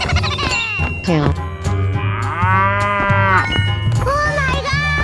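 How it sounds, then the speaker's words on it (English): Long, loud cow moos ring out in a 3D animal slide video game, two drawn-out lowing calls over steady game music with a voice chiming in. "Cow."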